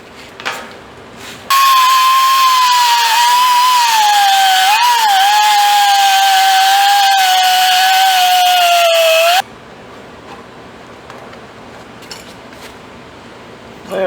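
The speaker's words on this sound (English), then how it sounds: "let me get my die grinder" A die grinder grinds a metal part for a homemade gooseneck trailer, giving a loud, steady high-pitched whine for about eight seconds. The pitch sags slightly under load before the tool cuts off abruptly.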